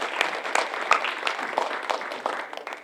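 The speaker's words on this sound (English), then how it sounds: "Let's give a round of applause for our performers." Sparse applause from a small audience at a live performance show, fairly quiet and uneven with individual claps standing out, continuing briefly.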